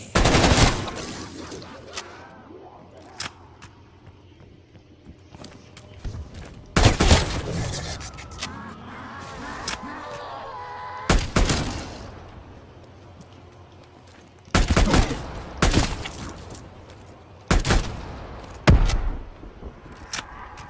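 Sharp, loud gunshots in Cold War Zombies, fired in spaced single blasts and short clusters with quiet gaps between, each shot crisp and close.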